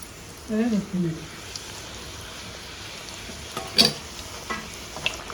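Puri, a Rayalaseema-style milk puri, fries in medium-hot oil with a quiet, steady sizzle and a few light pops, after a brief spoken voice at the start.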